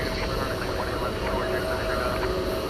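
Broad, steady jet roar of a British Airways Airbus A380 starting its takeoff roll at night at DFW Airport, a constant loud rumble with a high whine on top, no talk.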